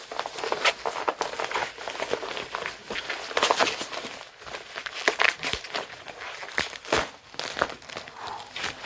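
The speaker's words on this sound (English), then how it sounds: "Got it out the package. Now let's unwrap it." Plastic packaging crinkles and tears at close range as a new speedometer for an Audi A6 wagon is unwrapped, with irregular crackling bursts throughout.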